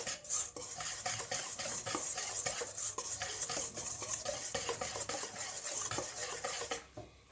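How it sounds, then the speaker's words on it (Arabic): An egg and powdered sugar are whisked in a bowl, giving a rapid, continuous metallic scraping and clinking that goes on steadily for several seconds before stopping abruptly near the end. "نخلطوا البيضه مع السكر الناعم جيدا هكذا"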